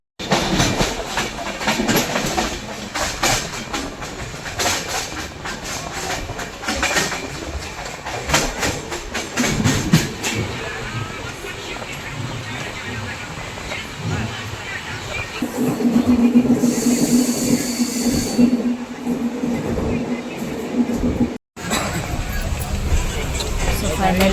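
A Konkan Railway train near Panvel runs on rails with a continuous rumbling clatter, steady throughout, while voices murmur in the background.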